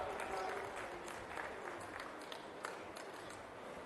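Students at a Gachibowli government event applauding after the chief minister's speech: steady, dense clapping from a large crowd, heard from a distance and fairly faint, continuing without a break.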